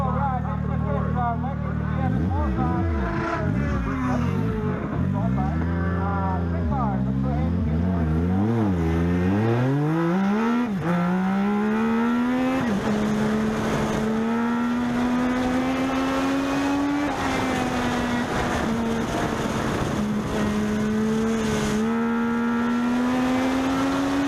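Legends race cars run a qualifying lap at Meridian Speedway, an engine note climbing and dropping through shifts, then settling into a loud sustained drone that rises in pitch along the straights.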